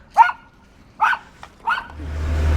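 A dog barks three times at a steady pace, fairly close, then a low engine rumble rises at the end.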